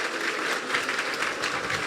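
A church congregation claps together in a dense, sustained burst of applause during a Punjabi worship service, loud and continuous throughout.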